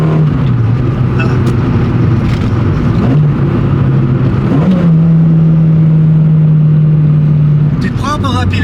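A Peugeot 205 Rallye's engine roars loudly and steadily close by, its note rising and settling through revs before holding a long sustained pitch, with a brief higher burst at the end; people talk over it.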